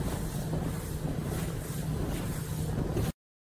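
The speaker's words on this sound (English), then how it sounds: "This is what a professional racing sailboat looks like." A professional racing sailboat moves on open water, with a continuous wash of wind and water rushing past the microphone at steady loudness and no voices, cutting off abruptly.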